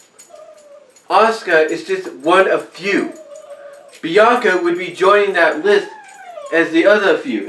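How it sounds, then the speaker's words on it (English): A pet dog whimpers and scratches softly in the background, with thin high whines between phrases of close, steady talk. "that's just my dog. She's just scratching right now."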